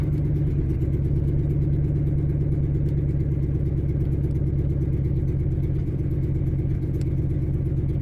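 A car engine idles steadily above 1,000 RPM with a low, even, throbbing rumble, unchanging and close, with no voices.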